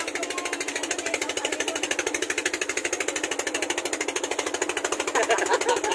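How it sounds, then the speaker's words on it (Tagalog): A boat's second engine running on the way to Niyog Island, a rapid, regular close mechanical chugging that stays steady throughout and swells slightly near the end, with voices faintly under it. "Inandar na yung pangalawang makina."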